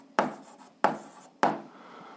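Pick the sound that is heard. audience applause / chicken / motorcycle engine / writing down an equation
writing down an equation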